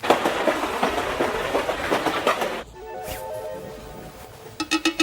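Rhythmic clickety-clack of a moving passenger train heard from inside the carriage, loud and steady for the first half, then dropping to a quieter rumble before sharp wheel clacks return at the end.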